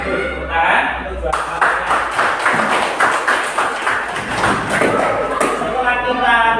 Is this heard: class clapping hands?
yes